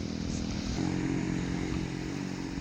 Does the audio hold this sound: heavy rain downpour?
no